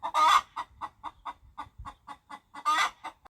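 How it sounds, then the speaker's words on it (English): A hen clucks in a rapid, rhythmic series of short close clucks, with louder squawking calls at the start and near the end. "H for hen"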